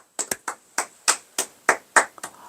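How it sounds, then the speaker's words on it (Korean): Hands clap during a church gathering, about ten distinct, crisp claps in a loose, uneven rhythm, close by with no voices over them. "박수 한번 칩시다."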